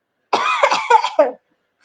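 A single close, harsh cough burst with a throaty, voiced quality, followed by silence.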